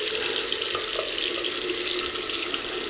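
A bathroom tap runs at full flow into a sink for rinsing after a shave, giving a steady, close, bright hiss of splashing water with no talk.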